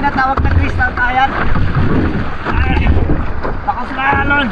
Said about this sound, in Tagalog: Lakas na alon.